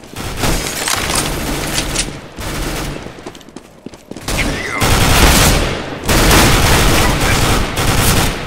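Rapid bursts of automatic gunfire from a CS:GO firefight on the Agency map crackle loudly in dense volleys, dropping briefly to a quieter gap before resuming at full intensity.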